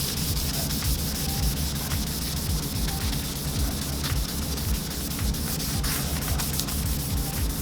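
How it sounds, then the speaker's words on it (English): Wood being sanded to remove dried Star Bond CA glue, a continuous close, even rubbing hiss with steady strokes, no talk. "So I'm going to sand them off and see what they look like."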